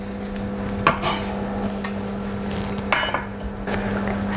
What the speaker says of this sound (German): Einfach kurz durchhacken.